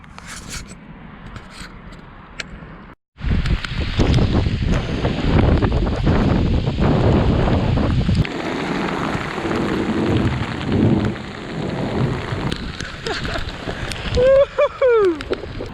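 Stormy wind buffets the microphone during a bike tour along the Via Claudia Augusta near the Austrian border, a loud, continuous roar with possible rain and rumbling mixed in, briefly cutting out early on.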